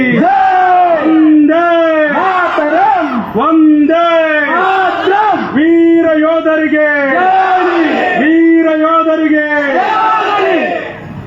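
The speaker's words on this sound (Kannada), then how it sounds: "ಒಂದ್ಸರಿ ಗಟ್ಟಿಯಾಗಿ ಜೈಕಾರ ಹಾಕೋಣ" Voices loudly chant a patriotic victory slogan in praise of soldiers at a public rally, repeating in a rhythmic call-and-response pattern close up.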